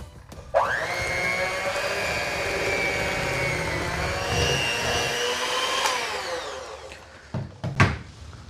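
An electric mixer whirs as milk and vanilla extract are beaten into snickerdoodle cupcake batter, a loud steady motor drone lasting several seconds before cutting off, followed by a few clunks.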